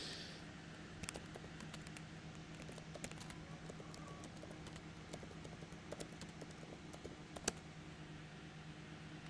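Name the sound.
typing on a computer keyboard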